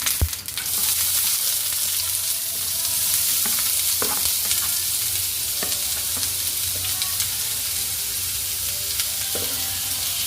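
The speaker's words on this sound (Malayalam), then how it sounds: "അതിനകത്തേക്ക് സവാള ഇട്ട് കൊടുക്കാം." Sliced onions sizzle steadily in hot coconut oil with mustard seeds, dried red chillies and curry leaves, loud and close, with occasional scrapes and clinks of a spoon stirring the pan throughout, no one speaking.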